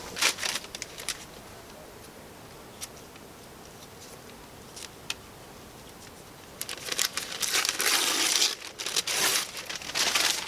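Paper being crumpled and shoved into a rocket stove, with crisp crinkling and scattered ticking rustles that grow louder and denser toward the end, close to the microphone with no talking.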